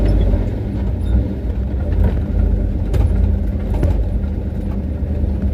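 A truck with freshly replaced leaf springs rolls along on a test drive, a loud, steady engine and road rumble from inside the cab, with occasional light rattles and jingles.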